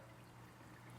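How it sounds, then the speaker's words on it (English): A parts washer pours water-based cleaning solution over Vespa GTS scooter parts, giving a steady, close, continuous hiss of running liquid with a low hum underneath and no talking. "I'm going to clean all these parts in the parts washer."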